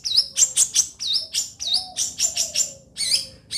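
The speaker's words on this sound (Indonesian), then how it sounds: "saya sedang memantau burung cendet milik teman saya ini ya." A long-tailed shrike sings alone, loud and close, in quick bursts of bright whistled chirps and rising notes, repeated in short phrases with brief gaps between them.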